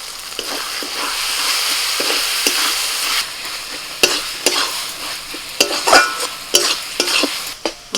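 Tomato and chicken masala are stirred in a frying pan for chicken roll filling: a continuous sizzle runs under repeated scraping strokes of the spoon, which grow louder and sharper toward the end, with no voices.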